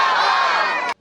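A crowd at a Pakistan Independence Day celebration shouts the slogan "Pakistan Zindabad" together in one loud, sustained burst of massed voices that cuts off sharply after about a second.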